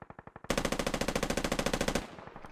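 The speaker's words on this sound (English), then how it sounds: "he's continuing to shoot at Assault" Automatic gunfire in the military shooter game Squad: a rapid, steady burst of close, loud shots lasting about a second and a half, preceded by quieter distant shots and fading into echo.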